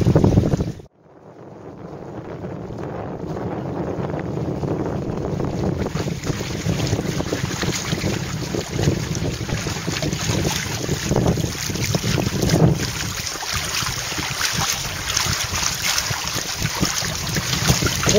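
Steady southwest wind rushes across the microphone while a sailboat sails upwind through water on the Taymyr route, with a continuous broadband roar and occasional gusts swelling louder.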